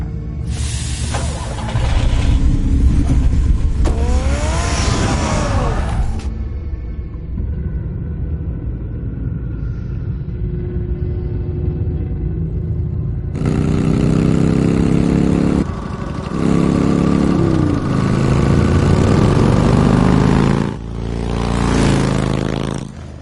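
The Batmobile's engine in the Batman Telltale game: a deep, steady rumble that swells into loud revving surges, drops to a quieter idle, then roars up again near the end.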